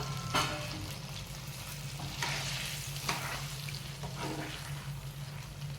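Rava kesari with ghee-roasted cashews being stirred in a pan, with faint, repeated scraping strokes and a soft sizzle in a quiet kitchen.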